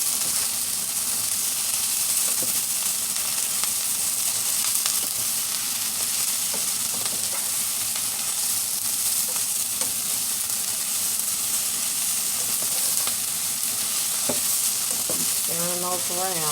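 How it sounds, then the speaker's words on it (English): Mushrooms frying in a pan for vegan butter chicken, a dense continuous sizzle with occasional scraping as they are stirred, close and steady, with a brief voice near the end. "Stirring those around."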